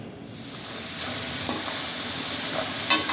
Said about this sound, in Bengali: তাই ওর জন্য অল্প করে ভাজতেছি